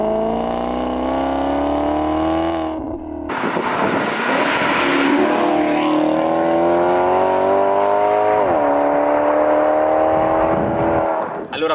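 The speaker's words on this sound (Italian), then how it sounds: "il fantastico ricordo del sound del suo vuoto aspirato" A 2020 Maserati GranTurismo MC's naturally aspirated engine roars loudly on the road, revving up through the gears with rising pitch, brief shifts and steady acceleration, close and powerful, with no talking.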